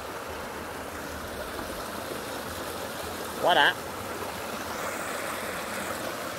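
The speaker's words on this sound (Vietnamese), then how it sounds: "Nước suối thì đông queo luôn, quá mát." A stream flows steadily around a garden plot in Dong Nai, Vietnam, its broad, constant rush of water filling the scene, with a short spoken exclamation partway through.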